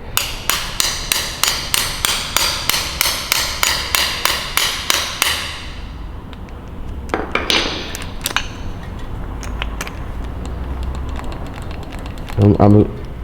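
Rapid, evenly spaced hammer blows ring out loudly for several seconds, then stop; scattered knocks and movement follow, with a voice speaking near the end.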